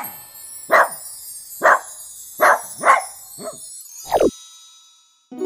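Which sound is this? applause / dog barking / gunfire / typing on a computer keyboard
dog barking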